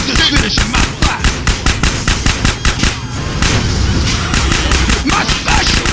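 Rapid bursts of gunfire in GTA San Andreas, close and loud, sharp repeated shots in quick rhythmic volleys that give way to a dense continuous roar of engine and wind noise.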